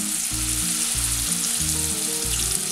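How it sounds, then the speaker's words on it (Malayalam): Food fries in hot oil in a home kitchen, a loud, continuous close sizzle and crackle steady throughout, with no talking. "ഇതൊന്ന് ചെറുതായിട്ട് എണ്ണയിലൊന്ന് ഫ്രൈ ആകണം."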